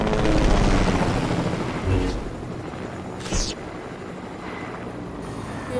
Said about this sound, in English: Where's the helicopter going?